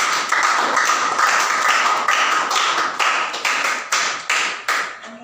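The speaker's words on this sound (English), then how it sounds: "Clap for her, please." A classroom of students claps for a classmate, a loud, close burst of many hands that breaks into uneven rhythmic claps as it winds down.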